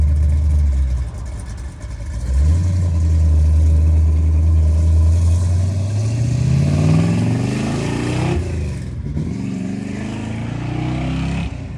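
A friend's car, a Dodge Dart fitted with a new drivetrain and a clutch still being broken in, idles loudly nearby and then pulls away with a rising engine note that gradually recedes into the distance.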